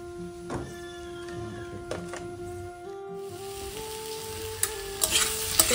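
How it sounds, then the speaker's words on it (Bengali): Sweet pumpkin and onion fry in a pan while being stirred, a steady sizzle with a thin tonal whine, scraping stirs and a few sharp clicks toward the end. "মিষ্টি কুমড়োটা ভাজা হয়ে গেছে, ভাজার আগে, নামানোর আগে আমি একটুখানি পেঁয়াজ দিয়েছিলাম"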